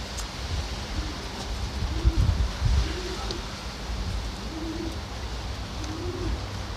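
Soft, repeated low cooing of homing pigeons landing, with faint rustling and light wing flutters nearby, steady outdoor background hiss throughout.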